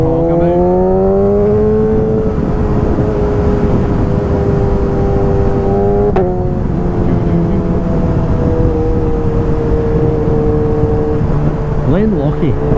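A 1000cc Suzuki GSX-S motorcycle rides along a road, its engine droning loud and close with rising and falling pitch through gear changes, overlaid by steady wind rush.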